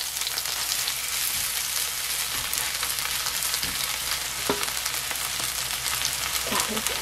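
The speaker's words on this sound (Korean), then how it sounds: "자글자글 소리 나지요?" Cooking oil sizzles and crackles steadily in a pan while a chive and snail pancake fries, a close, continuous hiss with occasional pops and faint stirring, alone without talk.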